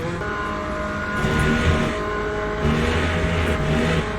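Ferrari GT3 race cars in Le Mans Ultimate, their engines droning steadily with rising and falling revs as a pack runs close together, loud and continuous.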